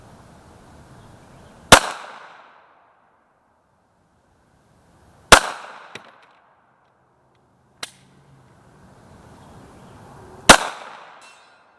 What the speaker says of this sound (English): I've never tried to hit a 150 yard shot with a freaking handgun.